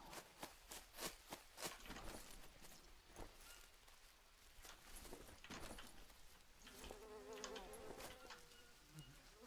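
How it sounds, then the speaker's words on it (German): Wasps buzz steadily in the Green Hell video game, a faint insect drone with brief clicks and footstep-like taps around it, and no voices. "Ich glaube, hier sind irgendwo Wespen."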